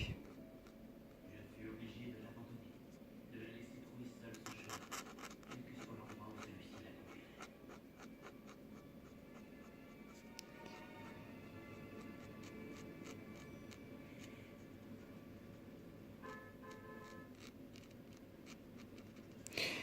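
A Posca paint marker colours a background on paper, giving soft scratchy strokes and light repeated tapping up close, with a faint murmur of talk in the background throughout.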